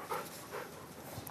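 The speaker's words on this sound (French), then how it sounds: "un rottweiler de 4 ans qu'il suit depuis près de 2 ans" A four-year-old rottweiler pants softly during obedience training, short breathy puffs sounding close but low in level, with no talk over them.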